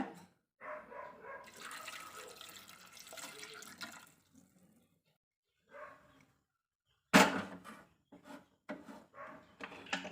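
Water poured from a vessel into a pot of lentils with tomato and turmeric, a steady splashing pour for about three seconds, then brief knocks and clatters of utensils, close and moderately quiet.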